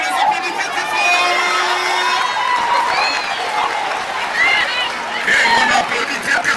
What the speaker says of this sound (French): Et on les applaudit très très fort.